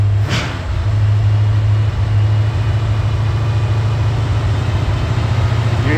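Hydrogen-powered V8 engine running at increased RPM, a loud, steady close engine drone with a strong low hum that holds evenly throughout, with no voices.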